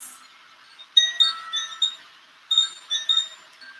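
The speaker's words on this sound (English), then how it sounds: "Listening to the sound of the kochi chimes." Koshi chimes ring softly in a quiet setting, with two gentle clusters of bright, shimmering tones that each linger and fade.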